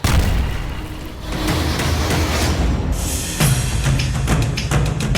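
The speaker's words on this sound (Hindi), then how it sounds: "चंद सेकंड बाद दूसरा धमाका होता है।" Heavy, rumbling missile explosions from an Israeli strike on Gaza boom loudly, with a dense low roar that swells and a fresh blast hitting partway through, no voices.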